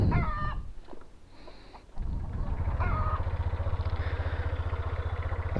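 A dew-soaked motorcycle with a top box idles to warm up, starting about two seconds in as a steady, pulsing engine putter, while chickens cluck and a rooster calls nearby before and over it.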